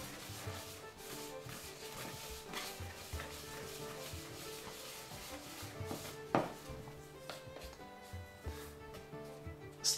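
Flock, paint and sawdust for wargaming grass are stirred together by hand, giving a continuous gritty rubbing and scraping with irregular soft knocks, close and moderately quiet, with no one talking.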